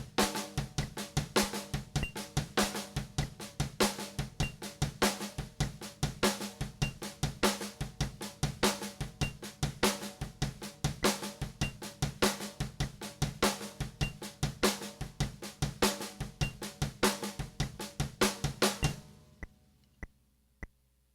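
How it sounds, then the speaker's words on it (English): A drum kit plays a steady rock shuffle at 160 bpm without ghost notes, driving kick, snare and cymbal hits in a swung triplet pulse for about nineteen seconds before stopping abruptly with a few ringing tails. "Without the ghost notes in there, it would sound like this"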